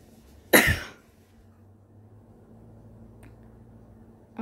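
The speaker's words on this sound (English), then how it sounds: "What will make me stop coughing?" One short, harsh cough sounds close to the microphone, followed by quiet background hum with a faint click later.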